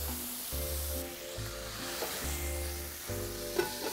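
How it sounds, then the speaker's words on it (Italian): Clams sizzling in a pan with olive oil, garlic and a splash of wine, producing a continuous close, crackling fry with low bubbling underneath and no talking. "facciamo un soffrittino di olio e aglio e apriamo le vongole"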